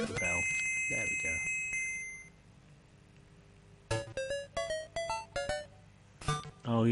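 A string of bright, quick bell dings from Super Mario Land 2 rings out in a rapid run near the end, after a stretch of talking and game music.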